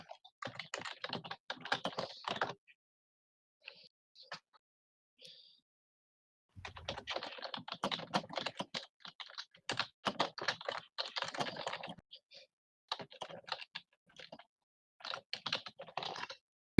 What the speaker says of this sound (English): Someone's smashing their keyboard.